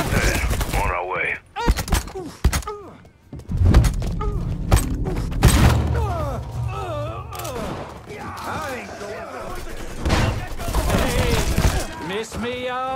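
Gunfire in the video game Mafia 3 sounds as repeated sharp shots and bursts, with booms and mechanical clatter, under and between voices talking throughout.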